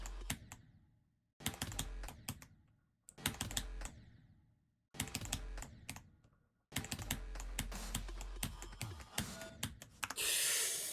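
Computer keyboard clicking while playing the Geometry Dash level Sakupen Hell, close sharp key taps in bursts of rapid clatter separated by brief quiet gaps, ending in a longer run of typing.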